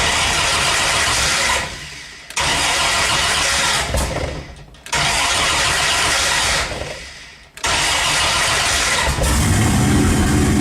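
A turbo Dodge Dakota truck, just converted to a 5-speed manual, cranks in three loud bursts with short pauses between, then fires and runs steadily up close at a raised idle of around 2,000 RPM.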